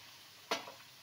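Onions and chopped vegetables tipped into a pan for fried rice give one sudden loud sizzling burst that quickly fades into a softer crackle, with no voices.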